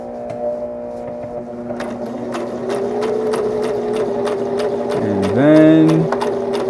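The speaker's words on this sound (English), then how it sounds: "I can just push, sew back out, push it in, and then sew back in" A sewing machine stitches fabric for a Green Lantern costume, its motor humming in steady runs that briefly stop and restart with a pitch swoop near the end, with a few spoken words.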